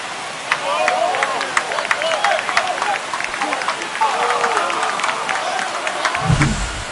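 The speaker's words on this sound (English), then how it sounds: "This crowd is on fire right now. They're going nuts thanks to that home run." Stadium crowd cheering and roaring after a home run in the MLB The Show 25 baseball video game, a Mets versus Phillies game, with steady loud crowd noise and scattered sharp claps and whistles, ending in a low thump.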